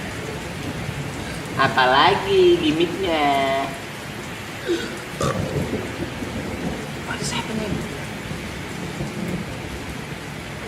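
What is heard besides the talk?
rain sound effect with thunder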